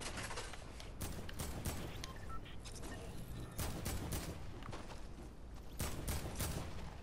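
Fortnite gunfire rattles in repeated bursts at moderate distance, sharp shots breaking through steady in-game background noise for several seconds, with no one speaking.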